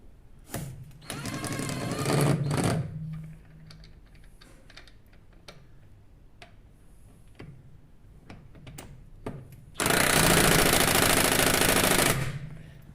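Sealey impact gun tightening a steering rod fitting on a 2000 Volvo C70 convertible, two loud rattling bursts of hammering, each about two to three seconds, separated by quieter workshop clicks and handling noises.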